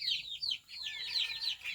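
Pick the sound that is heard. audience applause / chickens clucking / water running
chickens clucking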